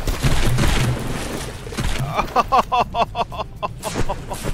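Battleship gunfire in the naval combat game From The Depths, a rapid fusillade of repeated booming shots building into a dense volley over a rumbling background.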